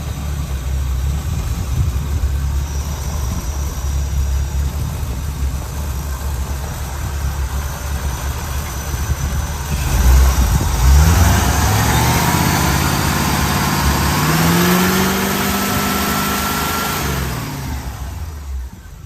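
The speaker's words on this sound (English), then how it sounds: "And that's how that little motor runs." A 1969 Jeep Jeepster's small engine runs steadily at a close idle, then revs up partway through before settling back, with no talking over it.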